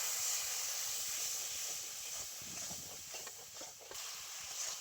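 Spiced water poured into a hot pan of fried garlic for a sea crab curry gives a steady, moderately faint hiss of steam that lasts throughout, with small bubbling crackles beneath.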